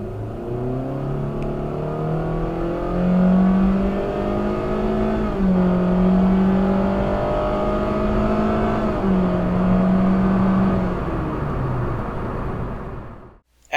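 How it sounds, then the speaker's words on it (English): A car accelerates from rest along a road, its engine droning loudly and steadily, the pitch climbing and dropping back at a few gear shifts over about fourteen seconds. "the car starts from rest and reaches the max speed of the road"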